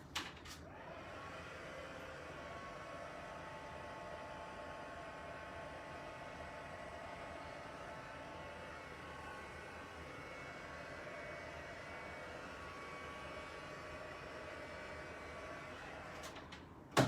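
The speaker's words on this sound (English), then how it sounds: "I'm actually going to go hit it with my heat tool for just a moment" A crafting heat tool blows hot air in a steady, whooshing hiss that runs evenly and unbroken for about sixteen seconds. Faint clicks mark switching on and off at either end.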